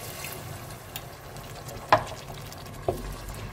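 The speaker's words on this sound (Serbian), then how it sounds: "Tako da se i dinsta i prži, da malo samo smekša." Carrot, pepper and onion simmering in oil with a little water in a pan, a low soft bubbling hiss with two brief sharp clinks, no talking.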